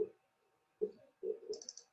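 A calculator's enter key is pressed in a few quick, close, dry clicks spaced unevenly over two seconds, with soft electronic tones near the end.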